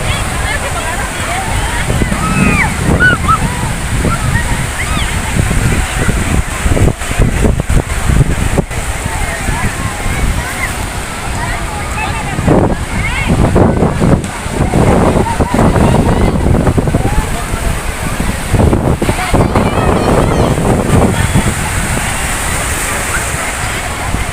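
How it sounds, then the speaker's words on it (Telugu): Ocean waves at Juhu Beach in Mumbai wash in close to the shore, a steady loud surf roar with rising surges, blended with wind buffeting the microphone and occasional voices. "అలలు వస్తున్నాయి కదా, అలలు దగ్గర దాకా వచ్చినాయి."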